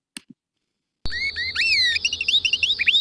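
Synthesized birdsong made of high, pure whistles broken into short syllables, with rapid rising and falling sweeps in a quick, stuttering sequence after a brief silence and two faint clicks.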